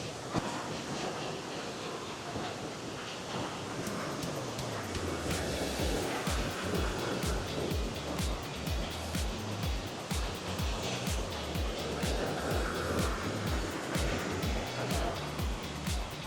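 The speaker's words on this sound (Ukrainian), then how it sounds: "Водоспад." A waterfall in Yaremche roars as a steady, broad rush of falling water, constant and fairly near, with no speech over it.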